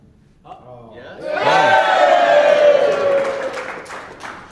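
A live business-talk audience gives a brief burst of cheering and applause that swells after a second and holds loud for a few seconds, with raised voices mixed in before it fades.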